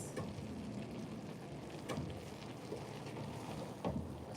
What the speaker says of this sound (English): So we're just going to stir this again.